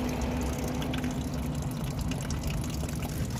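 Engine coolant drains from a 2011 Nissan Altima in a steady, continuous liquid gush with a constant low hum underneath, close and unbroken, with no talking.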